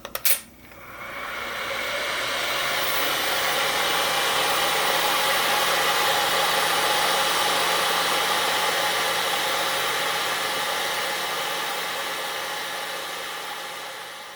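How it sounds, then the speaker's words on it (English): A hair dryer is used while building a model ship. After a brief clatter at the start it blows as a loud, steady, broadband rush that holds unchanged for the rest of the clip. "now I'm gonna take the hair dryer here."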